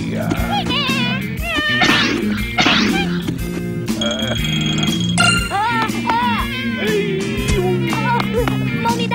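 A cartoon cat meows several times in an animated children's show, the calls mixed with character voices, music and other sound effects.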